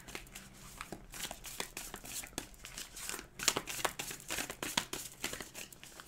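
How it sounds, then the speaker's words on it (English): A deck of tarot cards shuffled close by, giving quick crisp riffling and flicking bursts of papery clicks that come in uneven runs. "Okay, one more shuffle."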